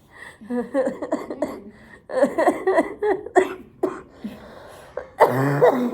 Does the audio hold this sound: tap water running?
no